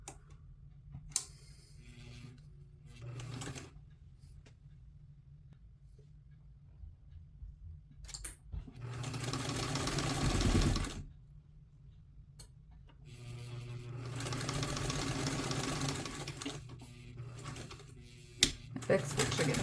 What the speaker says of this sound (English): in this case I will again start stitching and back stitch.